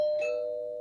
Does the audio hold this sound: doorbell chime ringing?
yes